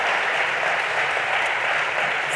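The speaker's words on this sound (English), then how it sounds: "please clap" Audience applause after an interview with Patrik Schumacher, a steady dense wash of clapping that holds evenly for a couple of seconds with no voices on top.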